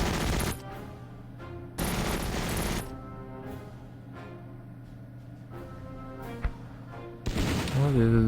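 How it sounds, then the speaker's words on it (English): Machine gun fire in the Battle Academy 2 video game, Operation Bagration campaign: repeated bursts of rattling gunfire a second or so long with steady battle ambience between them, and someone talking over the action. "lot more MG fire, our guys are firing back"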